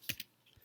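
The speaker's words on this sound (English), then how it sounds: "I can type in Google Scholar" A few quick keystrokes on a computer keyboard while entering a search, close and faint, two sharp taps followed by softer light clicks.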